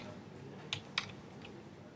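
A couple of soft, quick keystrokes on a computer keyboard in a quiet room, two isolated clicks close together against faint background hiss.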